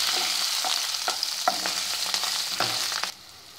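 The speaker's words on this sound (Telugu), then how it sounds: "ఎండుమిరపకాయలు, పచ్చిమిరపకాయలు, వెల్లుల్లి రెబ్బలు, చింతపండు, ఉప్పు ఇవి కాస్త వేగనిద్దాము." Dried red chillies, green chillies, garlic cloves, tamarind and salt fry in a pan for an Andhra roasted brinjal chutney, a steady close sizzle broken by several sharp stirring scrapes, then dropping quieter near the end.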